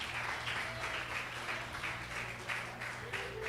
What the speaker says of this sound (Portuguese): Aplaude a Ele, meu amado.